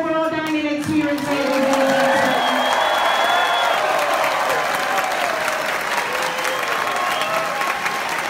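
A dining room full of people aboard the cruise ship Adventure of the Seas breaks into sustained applause, loud and dense, with scattered cheers and whoops rising through the clapping.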